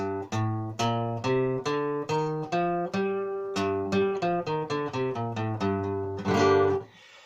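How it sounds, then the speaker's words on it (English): A guitar plays a G Aeolian scale note by note, minor-sounding, steady and clear, ending on a strummed chord that rings briefly before fading. "So if I play G Aeolian,"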